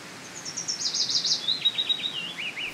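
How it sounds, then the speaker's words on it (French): Birds in an Indonesian jungle call in a series of quick, high chirping trills, rising and falling, over a faint background hush; fairly close and clear. "Les oiseaux semblent se rapprocher"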